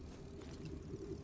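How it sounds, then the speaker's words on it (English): Small bogling creatures coo softly in Star Wars Jedi: Survivor, a faint, brief, low murmur with no voices. "Boglings. Are these what spooked Grease?"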